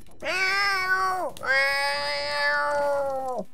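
A cat in the Sega arcade game Altered Beast gives two drawn-out, tonal meows back to back, loud and close, with a short break between them.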